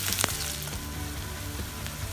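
Onion and capsicum fry in a pan for an idli chilli dish, giving a steady close sizzle with a couple of sharp clicks early on and no voices.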